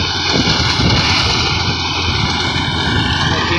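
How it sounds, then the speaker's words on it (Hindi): Tractor-driven reaper cutting a wheat crop in a field, giving a steady, loud mechanical drone with a rattling, whirring texture that holds unbroken throughout, no voices over it. "आपको रैपर की कटाई दिखा रहे हैं"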